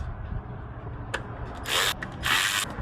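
Ratchet with an extension and 8 mm socket working a fastener, a couple of quick clicks followed by two short loud bursts of power tool ratcheting, close up with no speech.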